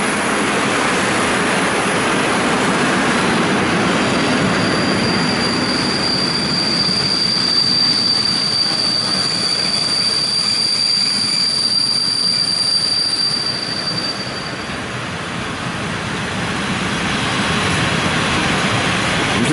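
Freight train wagons roll through a station at Skierniewice, a steady loud rumble of wheels with a long high metallic squeal running through the middle, constant and close, with no talk.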